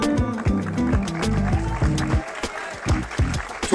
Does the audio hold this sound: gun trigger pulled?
no